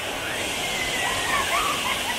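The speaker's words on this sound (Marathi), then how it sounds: "धबधबा चालू झालेला आहे" Savdav waterfall in Kankavli, Sindhudurg, in the Konkan region roars as a continuous rushing wash of falling water, fairly near, while a voice talks faintly over it.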